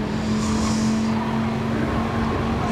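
WRX and Jaguar race cars in the GT Sport video game, a steady loud engine drone with a constant tone and faint tire noise throughout.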